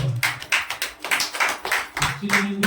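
A church congregation at a Sunday worship service claps in quick bursts, close and fairly loud, with a voice sounding in the background.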